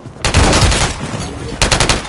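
Machine gun fire in a video game, a loud sustained burst of rapid shots followed by a short pause and a second sharp burst, with no talk.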